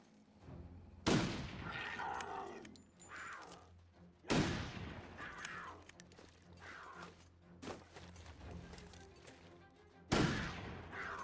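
Gunshots in The Long Dark ring out as three loud, sharp reports spaced several seconds apart, each echoing over a quiet, windy outdoor backdrop with faint movement between shots.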